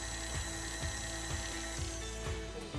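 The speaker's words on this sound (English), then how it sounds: "So that goes all into the mixer." An electric stand mixer beats cupcake batter with eggs and flour, a loud steady mechanical whir with a rhythmic knocking pulse, close and continuous without talk.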